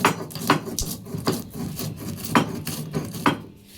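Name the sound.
grinding spices on a stone slab (shil)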